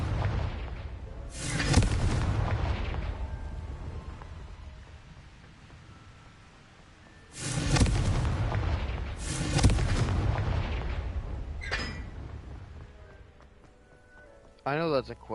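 Confringo blasting spell explosions in the video game Hogwarts Legacy: two big booming blasts with rumbling tails, then a few sharper bangs, loud and close, mixed with game noise and brief voices.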